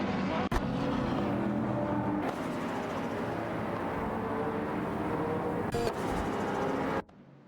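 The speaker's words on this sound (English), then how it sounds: "It looks like the battle for 30th place is heating up between Everlasting Apex in a Peugeot 207 GTI and Sputnik NZ in an Infiniti Q50 Eau Rouge" Video game racing cars, a Peugeot 207 GTI and an Infiniti Q50 battling near Eau Rouge, roar with steady engine drone and shifting pitch, punctuated by brief clicks before the sound cuts off abruptly near the end.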